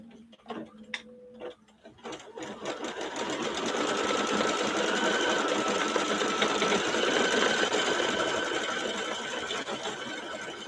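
An embroidery machine stitches out a design for a wedding quilt, making a steady, rapid mechanical ticking and whirring that stays loud and constant after a few brief clicks and tones at the start.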